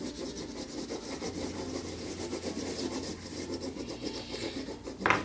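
Crayon shading lightly across paper, with a steady soft rubbing and scratching of back-and-forth strokes, close and quiet, with a brief louder scrape at the end and no talking.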